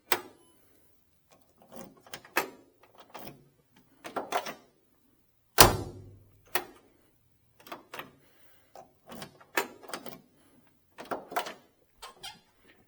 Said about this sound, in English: You'll notice the doors just snap shut nice and tight.